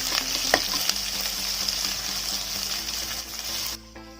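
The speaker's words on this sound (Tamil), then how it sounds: "2 பெரிய வெங்காயம் இந்த மாதிரி ஸ்லைஸ்டாக அரிஞ்சு எண்ணெயில் நல்லா கொஞ்சம் ப்ரௌன் கலரில் எண்ணெயில் நல்லா வதங்கணும்" Two large sliced onions fry in oil as they brown, a steady close sizzle with a few stirring clinks near the start, alone, before the sizzle cuts off.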